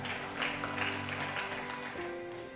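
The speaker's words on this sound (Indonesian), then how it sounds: "Boleh kasih tepuk tangan saudara-saudara." A church congregation applauds during a sermon, a steady wash of clapping that holds at an even, moderate level for a few seconds against a faint low hum.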